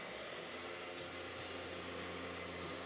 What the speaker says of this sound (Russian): Затем запускаем электродвигатель шпинделя